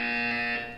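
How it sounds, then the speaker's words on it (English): A buzzer from the video game Portal 2 sounds a single loud, steady electronic tone with strong harmonic layering, holding evenly before gradually fading at the end. "You will hear a buzzer."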